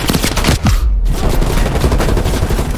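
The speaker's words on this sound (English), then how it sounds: "I'm getting shot at." Rapid gunfire in Call of Duty: Cold War on Hard difficulty, loud close bursts of automatic shots firing almost without a break, with one brief gap partway through.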